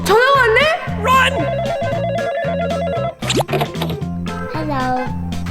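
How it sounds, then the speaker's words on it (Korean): A telephone rings in a repeating electronic pattern during a kids' toy car shop play scene, loud and close over bouncy background music, with children's voices calling out around it. "전화 왔네?"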